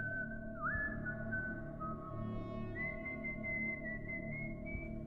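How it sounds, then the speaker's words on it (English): Slow, wavering whistling with long held notes that slide between pitches, somewhat off-key, steady over a low background hum. "I was almost asleep when I heard whistling outside."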